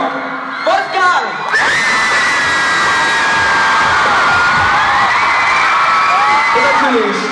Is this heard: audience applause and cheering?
yes